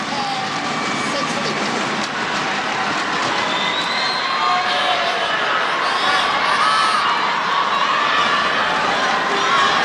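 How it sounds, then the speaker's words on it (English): A large crowd at the SEA Games 2017 men's team badminton final between Indonesia and Malaysia roars and cheers continuously, a dense, loud wash of voices with whistles and shouts, while a commentator speaks over it. "Crowd bubbling, loving this."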